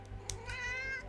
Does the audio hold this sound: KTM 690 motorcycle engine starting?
no